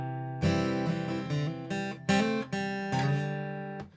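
Solo acoustic guitar moves between two chords with little embellishing notes, clear strums and plucks in a steady, unhurried rhythm.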